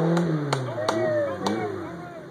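A car stuck in creek water at an off-road park revs its engine in a droning whine that rises and falls, with sharp splashes or knocks recurring about every half second and people talking nearby.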